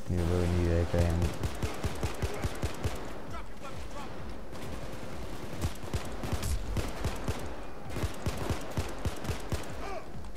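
Rapid bursts of AK rifle fire in the Payday 2 video game, loud, close and repeated across the whole stretch with brief gaps between volleys.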